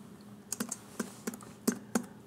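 Someone types a password on a computer keyboard, quiet irregular key clicks in a short run of about eight taps, close and alone with no talking.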